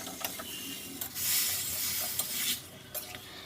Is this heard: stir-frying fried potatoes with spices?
yes